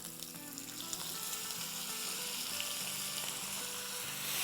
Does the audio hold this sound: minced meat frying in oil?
yes